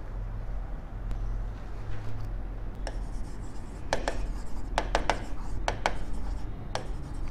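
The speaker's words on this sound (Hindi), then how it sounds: "अभी लिख लेते हैं आगे।" Handwritten notes being made with a pen on paper during a biology lesson on stratified epithelium, heard as intermittent soft scratchy strokes in irregular bursts over a steady low background hum, with no talking.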